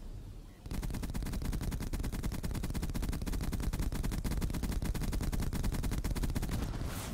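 Sustained automatic gunfire aimed at a mech in Black Ops 3 Infected mode on a DLC 4 map, a dense, rapid and loud stream of shots that starts abruptly and continues without letup for several seconds.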